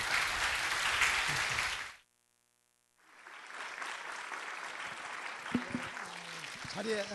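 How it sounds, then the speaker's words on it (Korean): A standing church congregation at a Sunday worship service breaks into warm applause, falls silent for about a second, then resumes clapping. Faint voices sound near the end. "여러분 모두 기립하셔서 뜨거운 박수로 맞아주시기 바랍니다"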